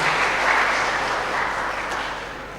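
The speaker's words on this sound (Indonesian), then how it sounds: "Kita tepuk tangan dong buat Jemaat Galet Kelapa" Congregation at a church culture-month closing service applauding together, a steady wash of clapping from many hands that holds for the whole moment and slowly eases off near the end.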